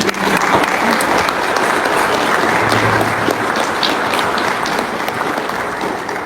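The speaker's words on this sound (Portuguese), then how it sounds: "Vamos aplaudir Jesus." A congregation at a Portuguese-language church service breaks into loud, dense applause that holds steady for around six seconds before easing slightly.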